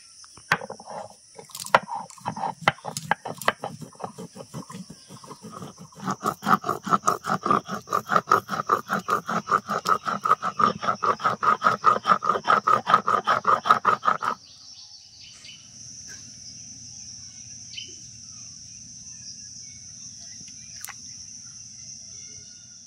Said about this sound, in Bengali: একটু জল দিয়ে বেটে নেব।